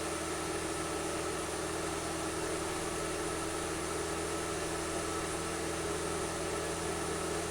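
Steady, loud simulated aircraft engine held at full takeoff throttle in a flight simulator, a continuous droning roar with a constant hum and hiss, no voices.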